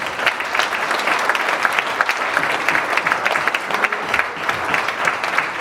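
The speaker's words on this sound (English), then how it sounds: "Let's have another round of applause for the British values." Guests at a formal unity dinner applaud after a speech, producing lively, sustained clapping with crisp individual claps standing out from the dense, steady roar of the room.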